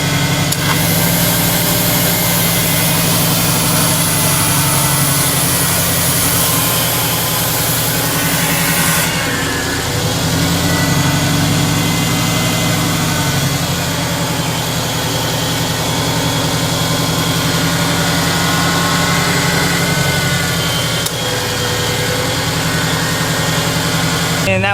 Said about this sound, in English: we're going to start the vehicle